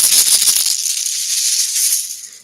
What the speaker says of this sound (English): Here's the sound of my old shaker.